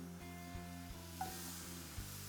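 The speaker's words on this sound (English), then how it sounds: "Listen to that sizzle!" Faint steady sizzle of tempeh frying in a hot pan, a soft hiss with occasional light ticks.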